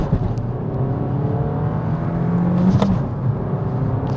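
A Suzuki Swift Sport Hybrid accelerates hard with a steady engine drone, and its pitch dips briefly during a laggy gear change before pulling on again, heard from inside the car.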